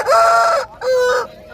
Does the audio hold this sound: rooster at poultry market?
yes